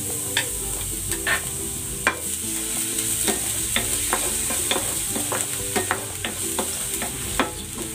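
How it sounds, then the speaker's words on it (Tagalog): Garlic sautéing in hot cooking oil in a pan, a steady bright sizzle broken by frequent sharp stirring clicks and scrapes of a utensil, close and continuous with no talking. "Lalagay ako ng cooking oil. Igigisa ko na tong bawang."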